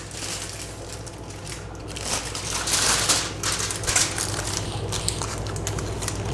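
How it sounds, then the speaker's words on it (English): Aluminium foil is peeled and crinkled off a tray of chicken biryani, making a continuous close crackling and rustling that swells midway and persists to the end, with no speech. "I'm just going to remove the foil and show you how it looks."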